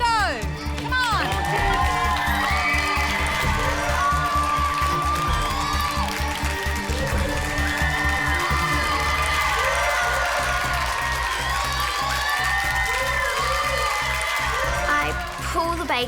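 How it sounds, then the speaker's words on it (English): Children on a balcony above a MasterChef Australia Junior kitchen cheer and shout, a lively crowd sound mixed with voices and bustle that carries throughout. "Everyone on the balcony starts to cheer"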